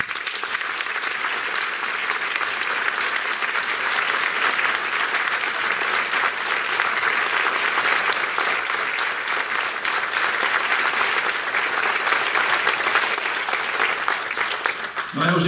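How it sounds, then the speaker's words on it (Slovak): Large audience at a university event awards ceremony bursts into loud sustained applause, dense clapping filling the hall for about fifteen seconds and fading slightly at the end. "Takže poprosím jeden obrovský potlesk."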